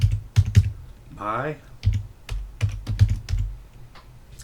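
Fingers typing commands on a computer keyboard while setting up a Raspberry Pi, sharp close clicks in uneven clusters, briefly interrupted by a short spoken word.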